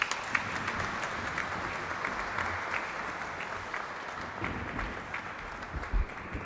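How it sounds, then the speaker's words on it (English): Sustained audience applause fills a lecture hall at a science academy memorial lecture, dense and even clapping from a large crowd that carries on for several seconds and swells slightly near the end. "Let's give once again a big round of applause, my friends, and a standing ovation"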